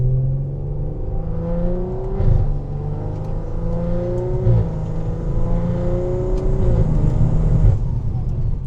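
A turbocharged BMW 340i xDrive running E50 fuel at 30 psi of boost pulls hard from inside the cabin, its engine note climbing through several gear changes with turbo whoosh and whine on top.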